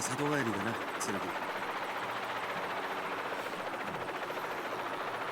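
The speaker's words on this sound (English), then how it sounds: "Yeah, the chopper needs to calm down." Helicopter rotor drone from the video game Psycho-Pass: Mandatory Happiness, a steady whirring thrum held throughout while a person talks over it near the start.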